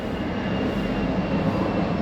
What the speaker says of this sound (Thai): มาพร้อมเสียงเครื่องบิน